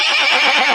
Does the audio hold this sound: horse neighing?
yes